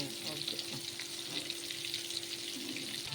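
Bitter gourd frying in a pan, a steady close hissing sizzle throughout with faint stirring scrapes underneath.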